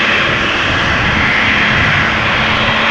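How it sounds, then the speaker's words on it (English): Embraer 190 jet departing Amsterdam Schiphol for Stuttgart. The engines give a steady, loud roar that stays close and constant for a few seconds, with no voices. "Embraer 190 to Stuttgart. I think we saw it arrive earlier. Now it is going again."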